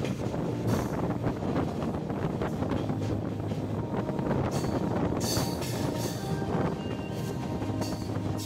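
The Kanchankanya Express rumbles along through tea gardens, a steady loud roar of wheels and wind buffeting close by, with brief hissing surges toward the end and no one talking.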